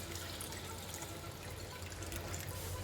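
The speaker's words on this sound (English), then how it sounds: "we have to put in our lamb broth" Lamb broth pours into a pot of simmering tomato-based lamb spaghetti sauce with a steady, even liquid rush that runs close and continuous throughout.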